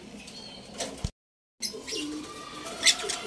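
Opaline African lovebirds in their nest box give soft coos and brief chirps, close and fairly quiet, with one sharper call toward the end and a short silent gap in between.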